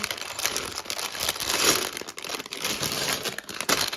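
Continuous close crinkling of a small plastic bag from a Lego set being opened and handled, busy rustling throughout with small sharp crackles and no speech.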